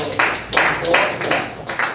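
A classroom group claps in a loose rhythm, with bursts of hand claps arriving every few tenths of a second, fairly loud and close, and voices mixed in.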